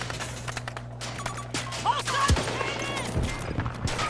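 Battlefield 2042 video game gunfire, a burst of bursty shots layered over a steady game-engine hum, with a louder impact near the middle and continuous background battle noise.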